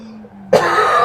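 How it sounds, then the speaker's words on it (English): A single loud, harsh chesty cough bursts out close by after a brief moment of near silence. "Now, if you excuse me, I need to cough."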